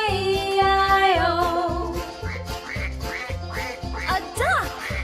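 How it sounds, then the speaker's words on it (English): Cartoon duck quacks repeat in a children's farm-animal song, over a steady, bouncy musical beat and sung melody. "A duck! Quack, quack!"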